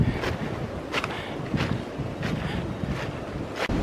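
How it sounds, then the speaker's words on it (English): Wind gusting and rain falling on an early morning hike, a steady close roar of wind buffeting the microphone with rain hiss, no talk. "It's dark, it's raining, it's windy."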